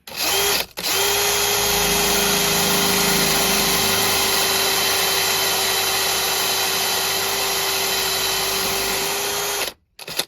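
A power drill bores a 4mm hole through clamped acrylic sheet, one continuous steady whine lasting about nine seconds, close and loud, with brief stops at the start and end.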